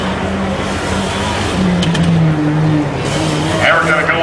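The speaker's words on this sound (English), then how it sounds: "Eric braking as he winds into the backside of the course over those triple bumps on the backside." A rough truck races over triple bumps on a dirt course at a 2009 Tuscarawas County event, its loud engine droning and revving close by as it brakes and climbs, with a voice talking over it.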